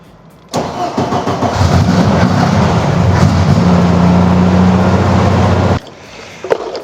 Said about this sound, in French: Bon, on va essayer de démarrer.